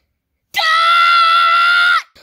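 A boy hurt in the leg lets out a single loud, sustained scream of pain for about a second and a half, close to the microphone, after a moment of silence.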